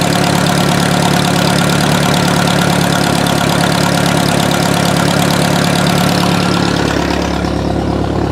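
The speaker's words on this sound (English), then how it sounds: "I don't hear any catastrophic motor problem." Outboard motor on a river boat running steadily at idle, a loud continuous engine drone with a slight knocking texture that eases a little near the end.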